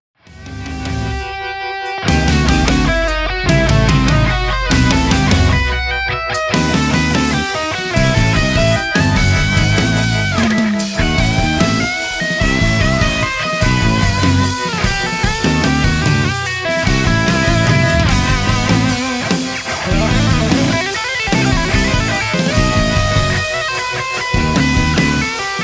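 Electric guitar playing through Neural Amp Modeler, chords and single-note riffs after a brief silent start, loud and upfront with no voice.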